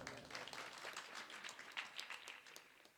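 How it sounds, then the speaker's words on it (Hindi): Applause rises from the audience at a mushaira poetry gathering in Jalalabad, Bijnor: a faint, fairly distant patter of many hands clapping that holds steady for about three seconds. "जोरदार तालियां बजाएं"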